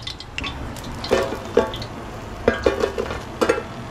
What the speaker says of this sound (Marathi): आता नेक्स्ट कारत फोडी तळता